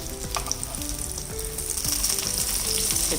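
Brinjal slices frying in a pan give off a steady, close sizzle, broken by repeated spatula scrapes and knocks as they are turned and stirred, with no talking.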